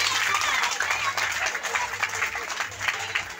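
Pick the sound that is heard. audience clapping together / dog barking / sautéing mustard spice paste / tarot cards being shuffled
audience clapping together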